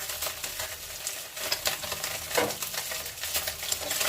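Freshly caught mourala fish frying in oil in a pan, a close, continuous sizzle and crackle with uneven spatters and a brief louder burst near the middle, no talk.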